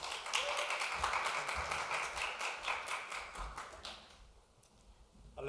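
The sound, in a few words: congregation applauding to welcome the pastor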